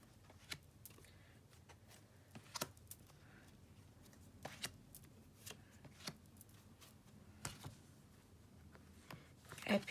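Tarot cards shuffled and handled at close range: quiet, scattered papery flicks and soft snaps with irregular rhythm over a hushed background, no talking.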